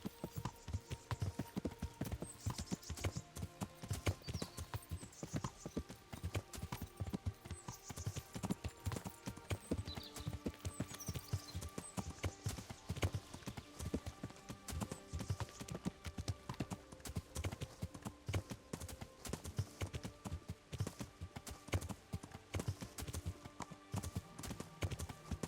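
Horse hooves clip-clopping in the video game Kingdom Come: Deliverance, a steady, continuous rhythmic trot of sharp hoof strikes at moderate level, persisting throughout with no talk over it.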